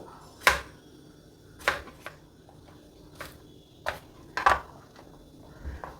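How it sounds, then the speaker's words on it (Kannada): Several separate knife chops lengthwise through eggplant onto a board, spaced irregularly, crisp and fairly close in an otherwise quiet room. "ನಾನಿಲ್ಲಿ ಒಂದು ಉದ್ದ ತಗೊಂಡು ನಾಲ್ಕೇ ಸೀಳು ಮಾಡ್ತಾಯಿದ್ದೀನಿ"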